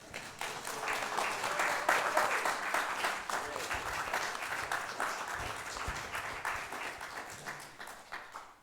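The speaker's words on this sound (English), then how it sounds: "let's give them a round of applause" A church congregation claps to welcome new members, a continuous, moderately soft roomful of applause holding steady before tapering off at the end.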